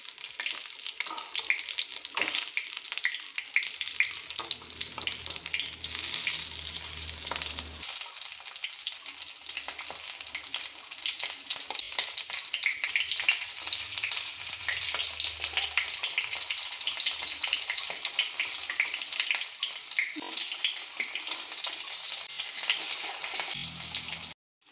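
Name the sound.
stuffed chillies being fried in a pan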